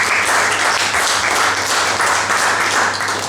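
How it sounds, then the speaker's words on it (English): An audience at a karate awards event breaks into loud, sustained applause for the master of ceremonies, a dense, even roar of many hands clapping close by with no talk over it. "a big round of applause for Bridg"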